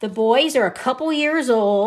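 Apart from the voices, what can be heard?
None of the usual background noises is heard.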